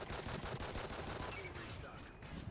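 Gunfire from the Call of Duty: Ghosts video game, a steady stream of rapid shots and crackling fire filling the whole stretch at moderate level, with no talk over it.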